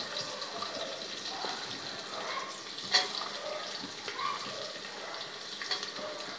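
Onion frying in oil after garlic, a faint, soft sizzle with light stirring and a few small clinks, fairly quiet and steady with no voices.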